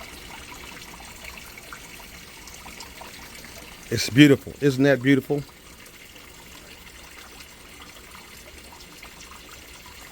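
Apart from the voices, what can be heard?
water trickling in aquaponics system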